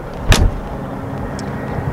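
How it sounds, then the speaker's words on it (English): A G-Wagon luxury SUV door slams shut once, a single loud, solid thud near the start, followed by quiet background hum. "I've got to do the thing where I shut the door and let you listen to it."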